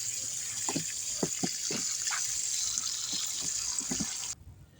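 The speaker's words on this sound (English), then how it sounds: "I'm just quickly watering before I add the soil to my containers" Water pours and splashes onto garden containers outdoors in a spring vegetable garden, a steady hissing flow with irregular patters and drips that stops abruptly near the end.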